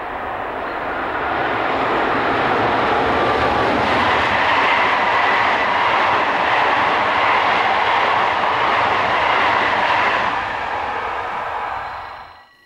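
SNCF BB15000 electric locomotive 15061 hauls a Paris to Strasbourg passenger train toward Dormans, a loud rumbling roar of wheels and rails held near its peak, then fading quickly at the end.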